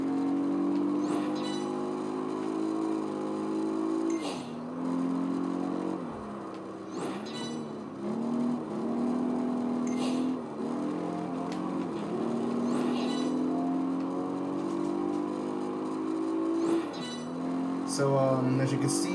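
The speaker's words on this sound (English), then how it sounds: "I'm going to be racing a Mercedes-AMG CLK DTM" Mercedes-AMG CLK DTM race car engine in Project Gotham Racing 4 on the Nürburgring, repeatedly revving up through the gears with sharp drops at each shift, while someone talks over it.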